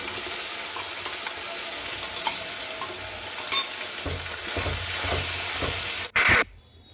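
Spice masala sizzles in a hot pan while being stirred, a steady close frying hiss with scraping stirs, ending in a sudden loud burst of splashing sizzle before it quiets.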